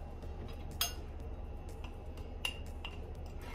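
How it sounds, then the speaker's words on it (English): A spoon stirs an essential oil mixture in a container, giving a few faint, sparse clinks against the side over a quiet background hum. "and then I'll stir it up"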